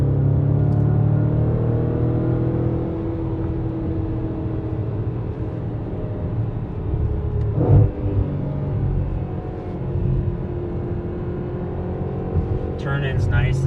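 A 2015 Audi RS5 quattro driving through twisty corners, its engine a steady low drone inside the cabin with a brief surge partway through and a few sharp high clicks near the end.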